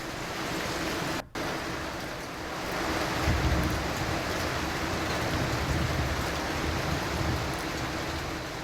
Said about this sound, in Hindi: यहाँ बारिश की बौछारें भी गिरती हुई नजर आई। तेज हवाएं और बारिश